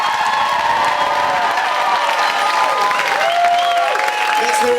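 Audience in a hall at a youth poetry slam event applauds and cheers for the poet coaches, steady sustained clapping with whoops and shouts, while a voice talks over the crowd.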